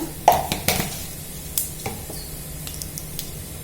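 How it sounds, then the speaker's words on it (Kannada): Mustard seeds dropped into hot oil for rasam, crackling and popping in sharp, irregular bursts over a quiet background sizzle, close by. "ಈಗ ಎಣ್ಣೆ ಕಾದಿದೆ, ಸಾಸಿವೆ ಹಾಕೋಣ."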